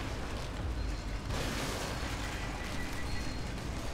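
A grenade goes off in The Evil Within as a dense, rumbling blast that swells about a second in and lingers as a continuous roar, with no voices.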